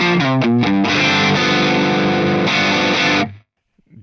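An electric guitar runs through an overdrive drive block on a Fractal AX8 and plays a loud, distorted bluesy riff. Quick picked notes lead into a ringing sustained chord that cuts off abruptly.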